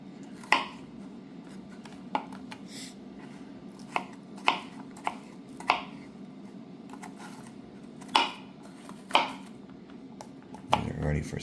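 A PAUDIN kitchen knife with a Pakkawood handle chops onions on a board, giving about a dozen sharp, close, evenly spaced thunks with quiet pauses between them.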